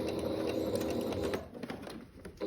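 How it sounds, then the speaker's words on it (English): Steady, close mechanical whirring of a sewing machine stitching a short-sleeve seam forward, briefly slowing and easing off near the end. "Go ahead and stitch a bit forward."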